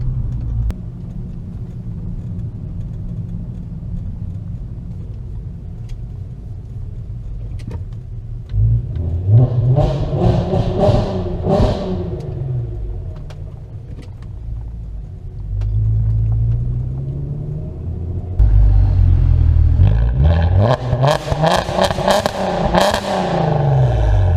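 Exhaust of a 2008 VW R32 with a resonator delete, heard from inside the car: a steady low engine drone that swells into two throaty revving climbs, with some clatter between them.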